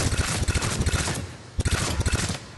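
Hornet burst-fire weapon shooting in Mass Effect 3 target practice, two loud close bursts of rapid cracking shots separated by a short pause, no talk.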